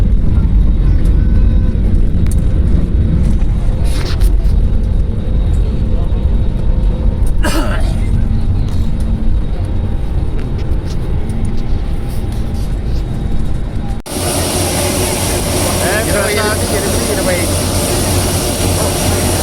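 Passenger jet landing at Varanasi, its engines roaring loud and steady inside the cabin for most of the span, then a sharp shift to harsher, brighter noise; people talk faintly underneath.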